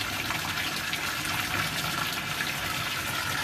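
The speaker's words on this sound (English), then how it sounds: "that's draining all the water from that bed" An aquaponics siphon drains water from a grow bed, producing a continuous, fairly loud gushing rush of water with no pauses.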